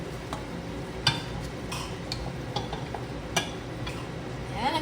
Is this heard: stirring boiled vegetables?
yes